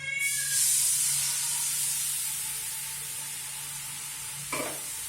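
Lemon juice hits a hot pan while making chicken piccata, giving a steady, close broadband sizzle that swells early and then settles, with a brief clatter near the end.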